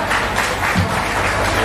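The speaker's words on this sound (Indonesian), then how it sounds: "Tepuk tangan untuk semua anggota." Members applaud at an Indonesian women entrepreneurs' association installation ceremony, a short, dense burst of room-filling clapping with some voice mixed in.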